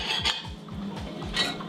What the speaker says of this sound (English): Continue to stir on a medium to low heat.